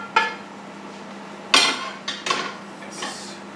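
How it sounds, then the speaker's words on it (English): Spoon clinking and scraping against a bowl while stirring pasta with meat and vegetables for carbonara, a few sharp knocks and scrapes spaced over a quiet background. "I'm going to stick my meat and veg into this, and then I'll try and stir it up"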